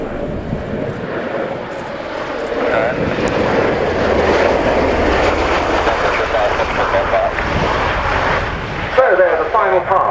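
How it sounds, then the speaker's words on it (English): A Bell Boeing CV-22B Osprey tiltrotor of the US Air Force's 7th Special Operations Squadron makes a final pass at the RIAT air show at Fairford, a broad, loud rotor-engine roar swelling and holding, with a commentator talking over it. "the final pass by the Cv22B Osprey from the 7th Special Operations Squadron of the US Air Force"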